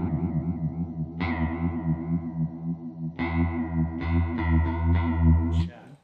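An electric guitar through a Fender chorus pedal plays sustained chords with a wavering, shimmering chorus effect, notes swelling and decaying in a smooth, watery wobble.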